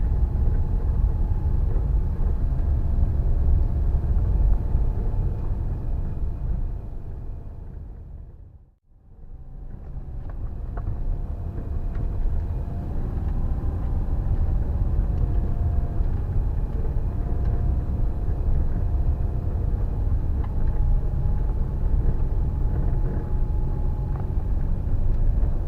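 A car drives along a rough trail in northern backcountry, a steady low engine rumble and road roar persisting throughout, briefly dropping away to near quiet before resuming.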